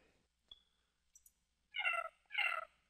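A cat sound played back from an App Inventor phone app when a kitty picture button is tapped: two clear meow-like calls close together after a faint click, with no talk.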